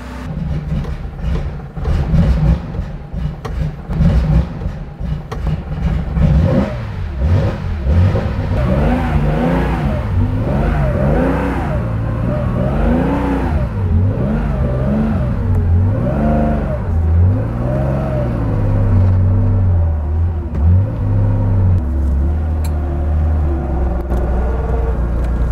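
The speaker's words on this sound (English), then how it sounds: "So I'm actually going to maybe take it for a sneaky little test drive in Mexico." A Porsche 911 2.8 RSR race car engine revs hard, with the rising and falling pitch of a high-revving flat-six under acceleration, steady and loud throughout with no talk.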